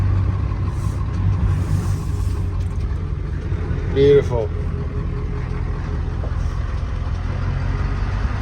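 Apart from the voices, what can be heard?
Ford OBS truck engine running after ZF5 manual swap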